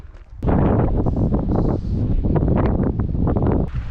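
Strong wind in a small Kyrgyz town buffets the microphone in loud, rumbling gusts that roar almost continuously after a quieter start.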